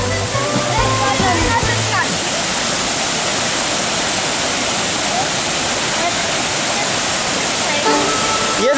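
The Czarna Hańcza river rushes past in a loud, steady broadband roar close by, with someone talking over it at the start and briefly near the end.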